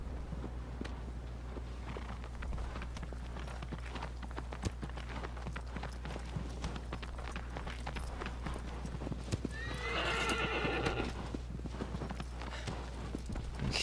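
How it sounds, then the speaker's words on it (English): Hooves clip-clop steadily as a horse trots and gallops in the video game Shadow of the Colossus, with a loud whinny near the end, all over a constant low game hum and no talk. "You're a wonderful horse."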